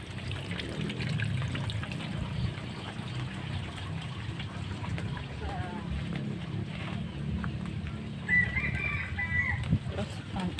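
Chickens cluck and a rooster crows near a backyard garden, with a steady low background hum and a brief louder crow toward the end.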